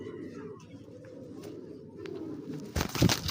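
Racing pigeons coo in a loft in soft, low bursts, with a brief louder rustle near the end.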